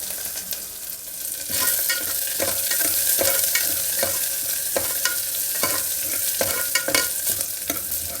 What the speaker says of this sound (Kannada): ಆ ಬೆಳ್ಳುಳ್ಳಿ ಎಣ್ಣೆನಲ್ಲಿ ಫ್ರೈ ಆಗ್ತಾ ಇರೋದು